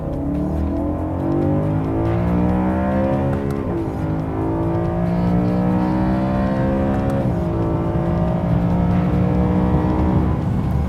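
A BMW engine revs through about ten seconds of continuous, loud, close mechanical roar, its pitch sweeping up and down through repeated rises and falls, with no voices over it.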